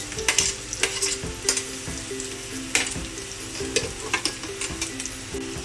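Garlic, green chili and ginger frying in a pan for brinjal bharta, a steady close sizzle broken by repeated scraping stirs of a spoon against the pan.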